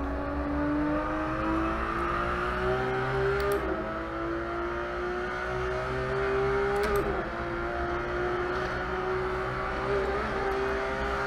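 A Porsche GT3 RS engine in the Assetto Corsa racing game, driven around the Nurburgring. It holds a loud, steady high-revving whine that climbs gradually, with brief dips at gear shifts and no talking.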